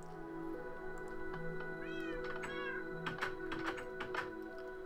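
Cats in the Minecraft video game let out a couple of short, close meows in quick succession over a quiet background hum, with faint clicking sounds following.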